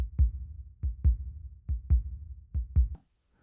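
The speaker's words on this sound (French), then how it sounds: "mon cœur martelant mes côtes" Heavy heartbeat pounding in paired thumps, a steady lub-dub rhythm repeated four times, deep, close and muffled, with nothing else around it.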